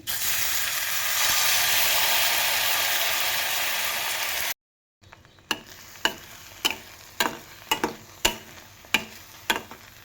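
Turmeric and asafoetida fry in a pan with a loud, dense sizzle, then after a brief cut, quieter frying with a series of sharp regular spoon taps against the pan.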